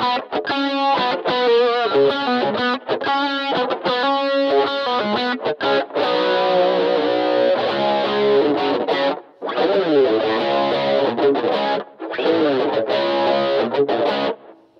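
Distorted electric guitar through a Line 6 HX Stomp snapshot set for a Rockman-style tone, first rhythmic chugging chords and then sustained lead lines with a few short pauses, loud and alone.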